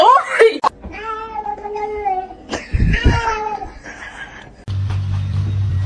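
A cat meows loudly in a drawn-out, wavering cry, followed by scuffling noises and a low steady hum.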